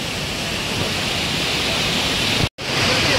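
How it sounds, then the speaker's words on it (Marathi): Savdav waterfall roars as a steady, dense rush of falling water, loud and close, with a sharp instant cut of silence near the end before the torrent resumes. "मस्तपैकी धबधबा होता कमी पावसात."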